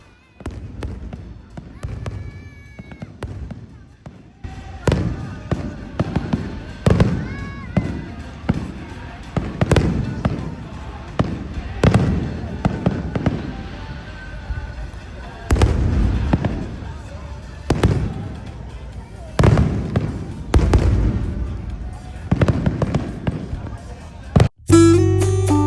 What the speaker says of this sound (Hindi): ये फायर क्रैकर्स को आप लोग एंजॉय कीजिए